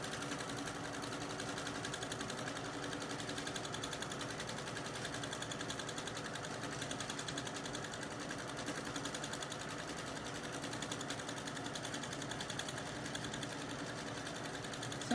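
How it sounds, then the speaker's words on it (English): Sewing machine stitching a quilted table runner in close, swirling free-motion stitches, a steady, soft, fast whirring hum that runs unbroken throughout. "I'm going to do a few stitches real close together and then just start"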